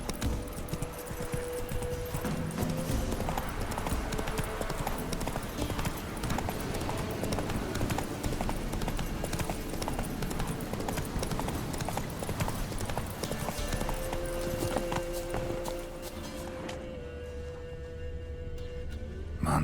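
Hooves of Roach, the horse in The Witcher 3, clip-clop in a steady, continuous rhythm close by, layered over dense in-game ambience and a low sustained tone toward the end.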